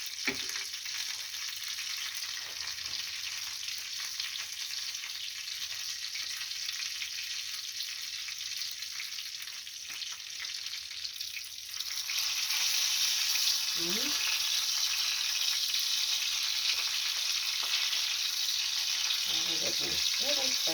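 Vegetables sizzle quietly in a pan with a soft, steady crackle that swells louder partway through, punctuated by occasional scrapes of stirring.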